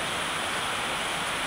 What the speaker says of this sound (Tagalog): Ito yung ulan.